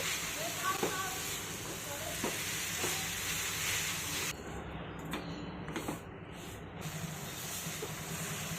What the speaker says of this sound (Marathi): आता खोबरं चांगलं शिजत तोपर्यंत आपण हे परतून घेऊयात